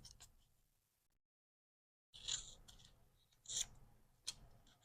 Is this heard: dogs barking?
no